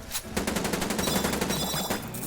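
Rapid automatic gunfire from guns in the zombie shooter game Paragon Zombie, a close, fast run of evenly spaced shots that continues without a break.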